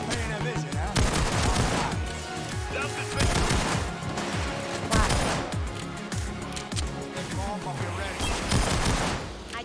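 Rapid bursts of automatic gunfire and overlapping shots from a Payday 2 heist, dense and loud for the whole stretch, with game noise filling the gaps.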